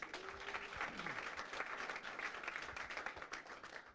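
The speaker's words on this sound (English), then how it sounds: "A big round of applause, please." A startup pitch event audience gives a round of applause, steady mid-level clapping for a few seconds with a faint voice briefly audible underneath at the start.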